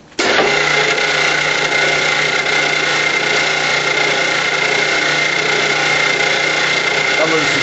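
A machine forms a spring for a gopher trap. It starts abruptly and then runs as a loud, steady mechanical drone with a constant hum and rattling vibration for the rest of the clip.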